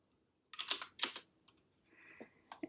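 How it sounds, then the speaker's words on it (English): Typing on a computer keyboard in two quick bursts of clicking keystrokes, followed by a few scattered, softer taps in an otherwise quiet room. "I'm going to type in charisma."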